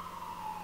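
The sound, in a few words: ambulance siren passing outside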